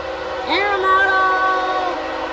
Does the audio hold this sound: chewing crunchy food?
no